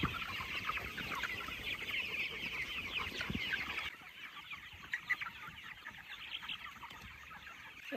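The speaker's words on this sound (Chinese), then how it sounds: "现在这个鸡已经喂好了" Free-range chickens on a mountain farm cluck busily as they are fed, a dense chorus of many birds, loud for the first half and then quieter and sparser.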